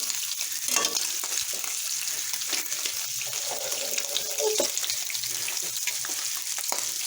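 Spam frying in a pan, a steady close sizzle with light stirring and scraping throughout, with no talk.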